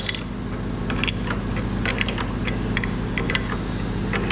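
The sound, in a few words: tightening oil extraction machine fitting with 34 spanner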